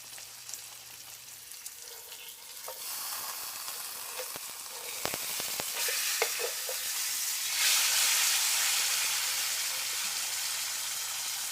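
A breaded pork chop fries in a pan with a steady, close sizzle that builds louder toward the end, with a few scattered clicks and scrapes and no talking.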